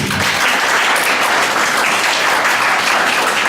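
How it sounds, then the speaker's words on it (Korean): Audience applause fills a church hall during a youth program information session, a dense, steady wash of clapping that stays loud and unbroken throughout. "박수 한번 부탁드립니다."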